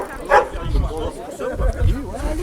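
Dogs give a few short yips and woofs close by, mixed with a person speaking throughout.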